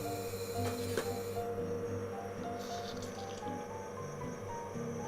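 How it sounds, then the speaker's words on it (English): A Lavazza Blue LB4724 capsule machine brewing a double espresso, a continuous pump hum with liquid gurgling and a faint drip, steady and close, no talk. "pressing the double espresso button."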